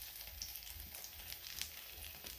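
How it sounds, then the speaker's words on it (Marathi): Egg-coated bread slice frying in a pan on low gas, giving a steady soft sizzle with faint crackles throughout, close and fairly quiet, with no talking. "आता याच पॅनमध्ये मी आणखीन एक यामध्ये ब्रेडचा तुकडा घालते."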